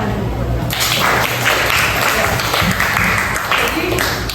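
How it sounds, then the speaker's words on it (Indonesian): A class of primary school pupils claps together in a classroom, a loud close burst of brisk overlapping hand claps that runs steadily for several seconds with voices mixed in. "Tepuk tangan dulu."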